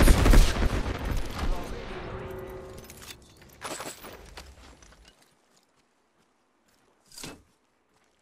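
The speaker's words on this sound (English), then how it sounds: "Someone's shooting me" Rapid gunfire in the video game Bocek Legends crackles loudly in a dense burst that fades over several seconds, followed by quiet and one more short distant shot, with voices faintly underneath.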